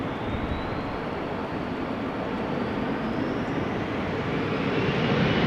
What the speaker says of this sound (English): KLM flight 1639 to Turin, Embraer 175.